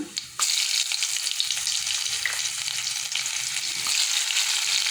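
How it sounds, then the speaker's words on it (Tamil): Onions hit hot oil already tempered with fennel, cinnamon, cloves and cardamom for a mutton kuzhambu, bursting into a loud, continuous frying sizzle with occasional stirring scrapes, no talk. "அடுத்தது வந்து வெங்காயத்தை சேர்க்க போகிறேங்க"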